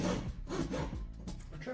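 A hand saw cuts through wood during acoustic panel installation, with a steady rasping, rubbing stroke sound that carries on throughout at moderate, close volume.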